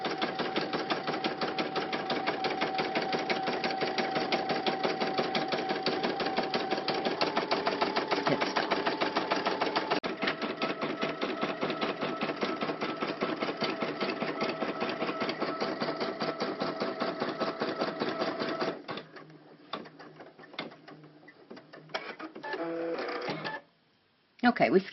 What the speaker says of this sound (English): we skipped ahead a little bit through some of that so that I didn't have to sit there and just watch the machine stitch